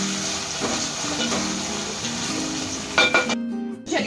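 Ginger and garlic sizzling and being stirred in a pan for a masoor pulao, a steady close frying hiss with a few scraping stirs and utensil clinks near the end.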